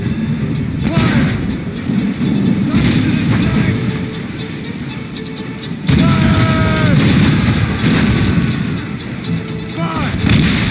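Ship cannons in Assassin's Creed Rogue boom in heavy repeated volleys during a naval battle, loud and rumbling, with shouted voices among the blasts.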